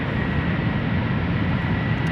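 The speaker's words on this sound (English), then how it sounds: "Delta Airlines flight 133 up next," A Delta Airlines Airbus A330-300 jet at Schiphol Airport gives off a steady, loud, broadband engine roar that holds constant throughout, with no voices.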